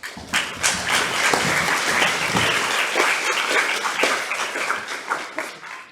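Dense, lively applause from a class audience in a lecture hall, many hands clapping close and steady for several seconds before thinning out slightly.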